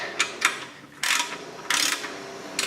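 Short bursts of ratcheting from a 14mm socket ratchet tightening the oil drain pan bolt on a Toyota Highlander, several separate clicking strokes, close and fairly quiet.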